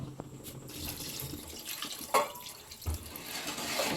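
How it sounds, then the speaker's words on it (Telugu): Crab boiling water is poured into a pan of village-style crab curry, giving a close, continuous watery splash and trickle with a couple of brief louder splashes. "పీతలను ఉడికించుకున్న వాటర్ ఉంది కదండి, ఈ వాటర్ని అయితే పోసేసుకుంటున్నాను. ఇంకొంచెం వాటర్ కూడా పోసుకుంటాను"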